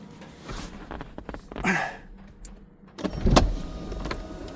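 A Porsche 996 convertible with rebuilt hydraulic roof cylinders lowers its power windows as the roof starts opening: close electric motor whirs come in separate bursts, with a louder second run near the end.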